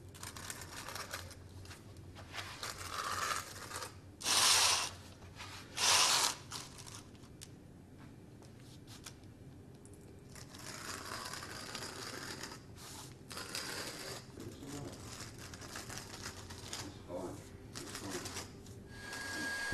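A hand groover cuts a channel along a safety flooring joint against a straight edge, giving a steady scraping rasp across the whole stretch, with two louder, sharper bursts early on and a few quieter scratchy passes later.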